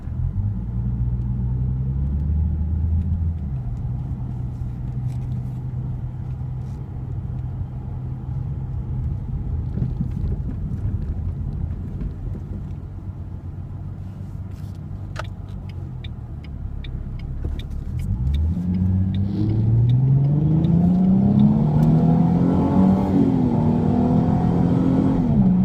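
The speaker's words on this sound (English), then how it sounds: "though this car is a single exhaust, I actually have to admit it sounds pretty good" A 2006 Ford Mustang V6 with a single exhaust rumbles along at cruising speed, then its engine note climbs through a strong, rising acceleration pull, loud and up close with no talking.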